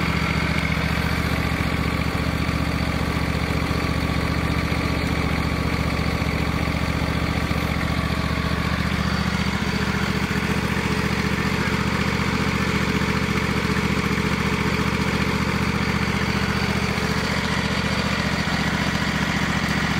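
A garden tractor engine idles steadily and close by, with a constant low, even drone that carries on for the full twenty seconds with no voices.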